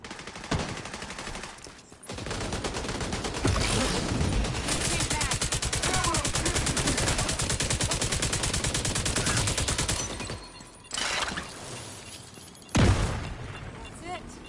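Sustained rapid automatic gunfire in The Division 2, long loud bursts of shots with brief pauses, then a few more sharp shots and a heavy boom near the end, while a voice talks over it.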